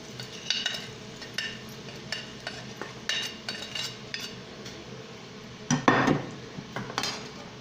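Sabudana is tipped into a pan of fried potatoes and stirred, bringing a run of close spoon-on-pan scrapes and clinks over a low sizzle, with a louder burst of scraping near the end.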